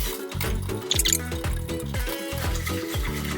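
Whisk frothing a Oaxacan chocolate drink, a continuous close liquid swishing and rapid churning with small splashy bursts, steady and unbroken for the whole stretch.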